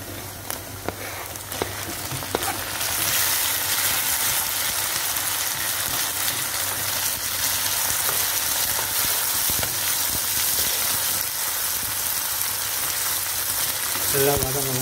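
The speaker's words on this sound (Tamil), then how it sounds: "இப்போ அடுத்தது நம்ம தக்காளி போட்டுக்கலாம்" Tomatoes sautéing in a pan for vatha kuzhambu, a steady bright sizzle and frying hiss running throughout with a few stirring knocks near the start, close and continuous.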